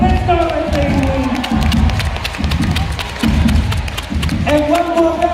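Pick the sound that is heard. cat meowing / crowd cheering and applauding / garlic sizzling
crowd cheering and applauding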